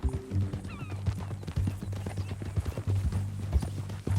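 Horse hooves clip-clop at a steady walking rhythm in the Western open-world game Red Dead Redemption 2, fairly close and clear, with an occasional snort or whinny and a low hum underneath.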